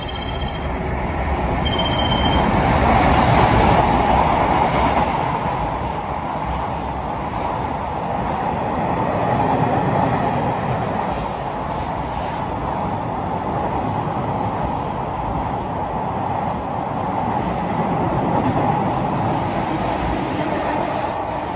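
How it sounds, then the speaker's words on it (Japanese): A long container freight train rumbles past nearby at Mihara, Japan, a sustained heavy rolling roar with rhythmic wheel clatter and a few faint squeals, lasting the whole stretch. "全部福山通運の、コンテナの貨物列車でした。"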